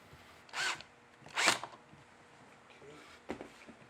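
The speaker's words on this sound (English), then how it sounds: "get those screws in there as tight as possible" A power drill drives screws into a DIY recycling organizer, with two short whirring bursts and a briefer third one separated by quiet pauses, close up.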